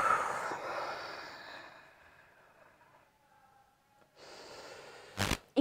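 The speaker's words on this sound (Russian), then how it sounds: "И добавим сюда на выдохе сейчас дыхание уджайи со звуком х." A breathy ujjayi exhale with a hissing h sound during a women's fitness and pelvic-floor exercise, a long airy breath fading over a couple of seconds, then another breath and a couple of sharp bumps at the end.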